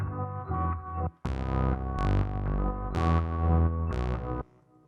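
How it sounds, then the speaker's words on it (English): Lo-fi house bass line layered with a sampled chord pitched down three semitones, giving a dreamy, warm tone: repeated sustained notes with bright attacks in a steady pattern, loud and up front, no talking. "So what I did was I pitched the sample down -3 semitones to match that"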